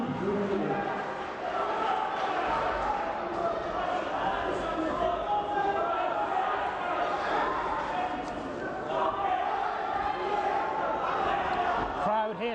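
A dense, continuous crowd roar fills a hall at a university boxing championship bout, loud and sustained with shouts rising out of it, while an announcer's voice talks over the noise.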